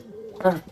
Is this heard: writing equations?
no